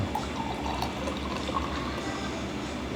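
A drink being poured into a glass, a steady liquid splash and trickle running for about three seconds, close and moderately loud, with no talking over it.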